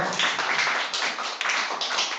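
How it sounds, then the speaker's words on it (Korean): A church gathering at a Christmas discipleship-training service claps together for two team leaders, a dense, steady wash of hand claps filling the room at close range with no voices over it. "우리 두 팀장을 위해서 박수 한번 쳐주세요."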